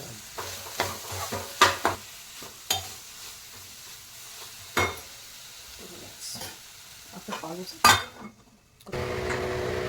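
Chili powder and salt are stirred into hot oil in a pan with snake gourd, giving repeated close scraping and clinking strokes of the spoon over a soft sizzle. After a brief pause, a steady frying hiss rises for the last second.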